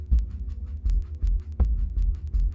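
Heartbeat sound effect in a narrated horror story: loud, close, deep double thumps repeating at a steady, slightly quick pace over a low hum, with no voice.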